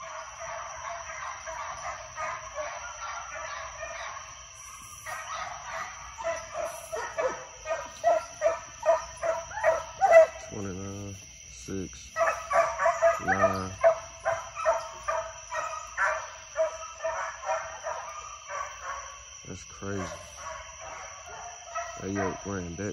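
A dog bays and barks in rapid repeated bursts at night in a fox pen, near to middle distance, with a steady insect drone behind and short pauses between volleys.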